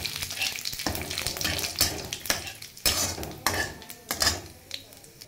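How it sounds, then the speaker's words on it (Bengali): Whole cumin, bay leaf, cardamom and cinnamon crackle and sizzle in hot oil for biryani, with close, loud pops, metal clinks of a spoon against the pan and bursts of frying through a few seconds, no talking. "এবারে দিয়ে দেবো ফোড়নে জিরে, তেজপাতা, এলাচ,"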